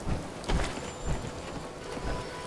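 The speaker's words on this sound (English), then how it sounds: "It's raining now." Steady rain falls in the open world of the video game Fallout 4, a continuous broadband hiss with a few louder swells, heard alone without voices.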